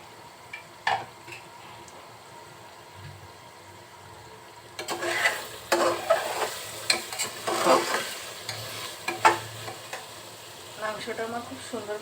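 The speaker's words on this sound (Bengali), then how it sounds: "দিয়ে কিছুক্ষণ মাংসটা কষিয়ে নেব" Beef in a pan for a Bengali beef curry, quiet at first, then close sizzling and frequent spatula scrapes and stirring clatter dominate the second half.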